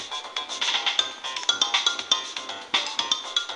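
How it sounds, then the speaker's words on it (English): A phone ringtone in a Roblox Tower of Hell game, a bright, steady electronic melody of rapid repeating tones, loud and close, with no talk over it. "It's a phone!"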